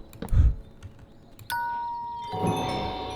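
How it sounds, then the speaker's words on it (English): A doorbell in the Minecraft modpack MC Eternal 2 rings a clear two-tone ding-dong chime, one close, bright ring that lingers and fades, with no talking over it. "So we got a doorbell?"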